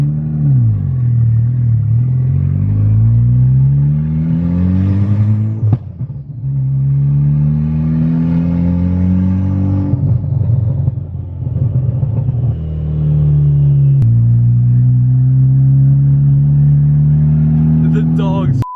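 An MK6 VW Golf R with a big turbo and a slipping clutch drives from inside the cabin, its engine note climbing and falling through repeated gear pulls, a loud, close, rumbling drone with rising revs.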